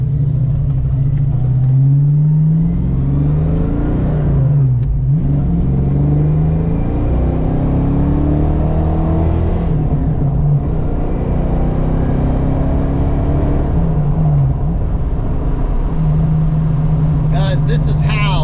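A Fox body project car's engine rumbles and revs loudly while driving, rising and dropping in pitch through repeated accelerations and shifts, with people talking in the cabin over the drone.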